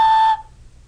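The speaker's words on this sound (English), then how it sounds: "the air comes out over this 45-degree angle and creates that whistle noise" One short, bright clay whistle blast, clear and close, cutting off sharply after a third of a second into quiet.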